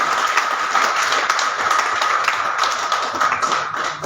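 An audience at a city press club event in Faridabad claps to welcome two guests, a steady close patter of many hands throughout with no talk.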